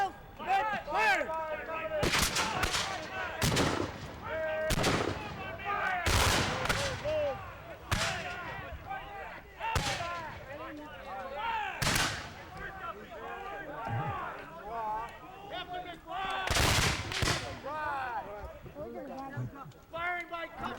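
Musket volleys at a Civil War re-enactment crack out in sharp, loud, uneven bursts roughly every one to two seconds, with shouted commands and voices throughout.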